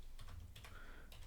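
Typing on a computer keyboard, a quick run of soft key clicks in uneven bursts, close and quiet with no talking.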